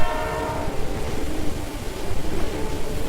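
A train rumbles past on the rails with a sounding horn at the start, a dense, loud, continuous rolling roar used as a horror-story sound effect.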